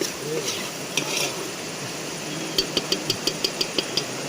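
Ground masala paste of dry coconut, onion, garlic and ginger is added to a crab curry cooking outdoors by a stream, then stirred: a soft sizzle with a quick run of rhythmic spoon taps and scrapes on the pot.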